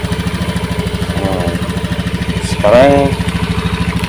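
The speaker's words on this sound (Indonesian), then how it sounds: "kita matikan mesin" A motorcycle with a hesitating engine idles in a repair shop while its TPS sensor voltage is adjusted, a loud, close, steady putter with someone speaking briefly over it.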